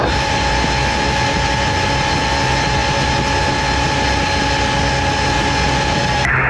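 A Luxair airliner going around roars as a loud, steady engine drone with a sustained whine, unbroken for several seconds.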